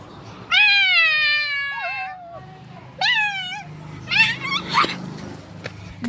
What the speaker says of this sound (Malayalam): മിക്കു പൂച്ച ഇത് കണ്ടോ ഗേസ്?